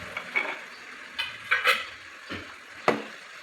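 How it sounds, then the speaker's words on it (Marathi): Green peas being sautéed in a pan for hara bhara kabab, heard as a few soft scraping stirs and light clinks against the pan over a faint sizzle, close and quiet with no talking. "यात जे आपले ग्रीन पीस होते ना 1 वाटी, त्यात थोडेसे आपण परतून घेणार आहोत."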